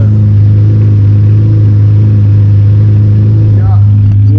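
A Lamborghini Murcielago drones loud and steady from inside the cabin, a heavy low engine hum filling the whole stretch, with a voice rising near the end.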